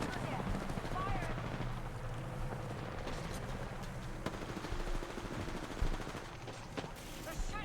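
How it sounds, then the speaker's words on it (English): Enemy gunfire in an Apex Legends ranked match, dense rapid shots crackling under a busy mix of game effects, steady and fairly loud with a few sharper impacts. "They're shooting at me."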